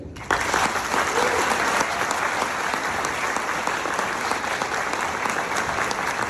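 An audience at a Flutter Conf Latam talk breaks into sustained applause, a dense crackle of many hands clapping that starts abruptly and carries on evenly, with a voice faintly heard beneath it.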